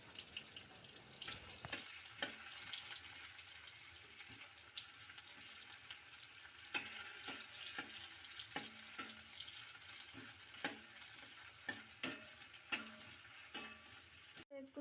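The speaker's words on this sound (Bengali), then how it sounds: "ওই তেল গরমে পেঁয়াজ দিয়ে দেব।" Onions frying in hot oil left over from frying eggs for an egg curry, a steady broad sizzle with intermittent clicks of stirring in the pan, close and alone with no voices.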